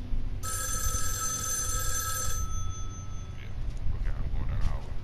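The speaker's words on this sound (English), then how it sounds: "I think I'm better off answering the phone." Telephone bell ringing in a continuous electronic trill for about two seconds over a low background rumble, then cutting off, with faint voice-like sounds afterward.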